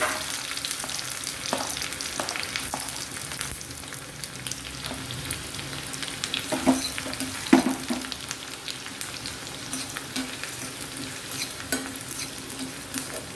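Finely cut shallots fry and sizzle in a pan for a Kerala snake gourd curry, a steady crackle broken by scattered stirring scrapes and clinks of a utensil, close and moderately loud with no talk.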